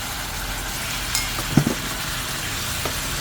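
Fried catfish is stir-fried in chili paste in a pan, giving a soft continuous sizzle with a few brief scraping clinks from stirring, close and without voices.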